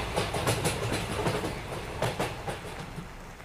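A train rolls past across open fields, its wheels giving a rhythmic clickety-clack over a steady rumble, loud and close before easing slightly toward the end.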